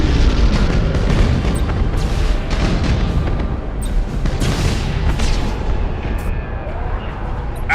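An enemy transport ship blows apart in the Battlefleet Gothic Armada space battle game: a dense, loud, continuous rumble of booming blasts and heavy bass explosions rolls on throughout, with no speech over it.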